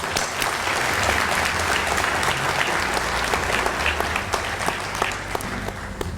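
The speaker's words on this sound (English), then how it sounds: "Let's all give them a round of applause." Sustained applause from an audience at an athletic hall of fame induction ceremony fills the room, steady and dense, with no voices over it.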